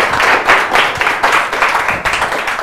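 Studio audience on a Ghanaian quiz show claps after a mention of boxer Azuma Nelson, a short burst of fairly loud, dense clapping in uneven surges that rise and dip across a few seconds.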